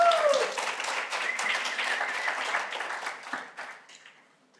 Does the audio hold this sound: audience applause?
yes